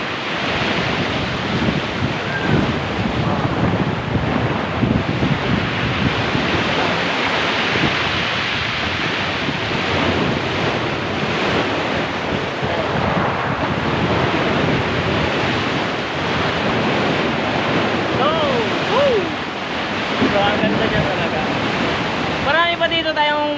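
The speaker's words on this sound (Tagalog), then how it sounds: "Malakas ang alon." Loud, continuous roar of surf and wind, strong waves crashing heavily with no pause at Kulasi Beach near Butas Butas cave, Mauban, Quezon province, with faint voices mixed into the noise.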